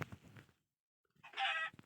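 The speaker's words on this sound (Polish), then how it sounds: "Kurczak!" A Minecraft chicken clucks in a quiet game scene, a couple of short soft clucks followed after a pause by a brighter, louder cluck.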